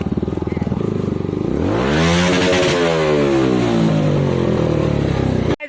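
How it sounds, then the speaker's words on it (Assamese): A motorcycle on a road past tea gardens near Panimur in Karbi Anglong, Assam, rides loud and close, its engine note rising and falling in a sustained revving sweep before cutting off abruptly. "বাইক"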